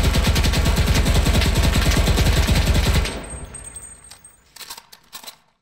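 A Beretta M38 submachine gun with a 40-round magazine fires a rapid sustained burst in a video game for about three seconds, followed by loud mechanical clicks and clatter as it stops.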